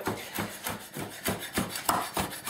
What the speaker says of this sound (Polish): w tym momencie kroimy rozmaryn